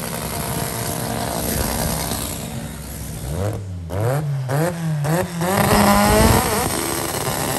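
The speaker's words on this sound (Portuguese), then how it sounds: "motor de Opala 4 cilindros" A drag racing car with an Opala 4-cylinder engine accelerates hard on a strip, its engine rising through gears in climbing revving sweeps and droning loudly against the steady background of a racetrack crowd.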